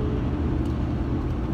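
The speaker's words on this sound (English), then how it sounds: "car's going so fast over here, not trying to let me over" Traffic rushes by on a road, cars moving fast in a continuous broadband roar heard from inside a moving vehicle, with no distinct single pass-by standing out.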